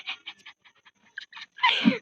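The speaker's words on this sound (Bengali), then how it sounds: "কুকুর কুকুর ঠিক আছে" A dog panting in quick, short rhythmic breaths close by, ending in a louder, harsher exhale or snuffle.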